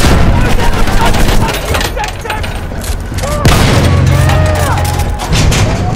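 Machine gun fire in a video game battle, loud dense bursts of rapid shots with booming impacts and whistling tones layered through, voices calling out under the din.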